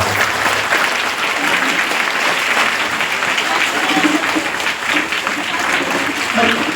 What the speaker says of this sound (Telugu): టీచర్స్ ఒకసారి గట్టిగా క్లాప్స్ కొడతాం